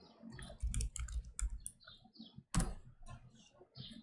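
Keys clatter on a computer keyboard as someone types a Deno run command with write permission, quick bursts of clicks with short pauses and one loud strike near the end, close and quiet.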